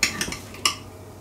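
A knife cuts a cooled apple cake on a fluffy sponge base, giving a few quick clinks and scrapes against a plate, close and brief.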